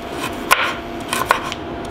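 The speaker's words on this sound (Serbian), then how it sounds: "I tako sečemo svu šargarepu." A kitchen knife chops carrots into rounds on a board, giving a few crisp, close knocks: one sharp cut, then a quick pair a moment later and a softer tap.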